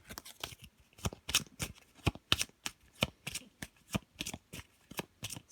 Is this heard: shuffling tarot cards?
yes